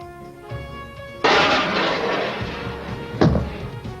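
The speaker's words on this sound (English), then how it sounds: "Now you see the all-weather Mirage aircraft firing Sidewinder missile at the target." An all-weather Mirage aircraft fires a Sidewinder air-to-air missile at a target, heard as a sudden loud roaring blast that rushes on for a couple of seconds, followed by a sharper impact-like burst near the end.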